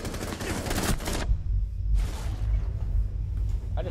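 A loud, dense burst of gunfire from Rainbow Six Siege rips out at close range, cuts off, then a second shorter blast follows over a heavy low rumble.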